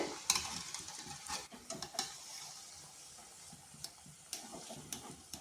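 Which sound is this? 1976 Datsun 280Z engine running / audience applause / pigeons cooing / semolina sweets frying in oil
semolina sweets frying in oil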